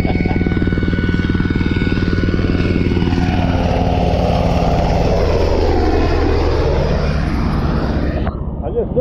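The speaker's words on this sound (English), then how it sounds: "That's a low flying helicopter." A helicopter passes low and loud overhead, its rotor thudding steadily while the engine pitch sweeps down as it moves away.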